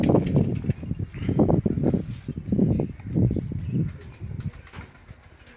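Pigeons on a rooftop, a flock flapping their wings in repeated close bursts with soft cooing between them, the flutters fading out toward the end.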